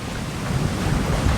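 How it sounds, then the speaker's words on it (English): Strong wind and waves buffet a sailing boat off Greece, a steady, loud rush of gusting air and broadband water noise with heavy wind rumble on the microphone and no speech. "It's really freaky winds again."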